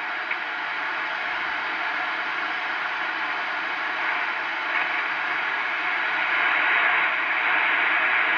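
Band noise on 75 meters received by a Swan-240 transceiver: a steady, hissing static wash that holds evenly throughout, moderately loud, with no clear signals or voices.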